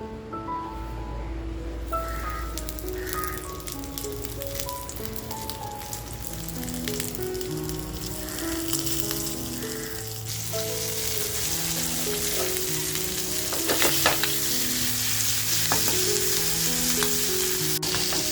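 Coated stuffed squid fry in a hot pan with a constant crackling sizzle that swells louder in the second half, under a bed of background music.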